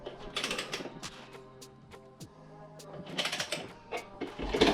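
A socket wrench tightens the rear wheel nut on a Rieju MRT 50cc motorcycle, making bursts of close, rapid ratcheting clicks separated by short pauses, with small metallic clanks in between.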